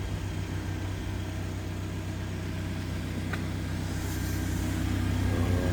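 A car engine idles steadily to warm up on an icy, snowy morning, a constant low hum with a faint rise near the end, close and alone.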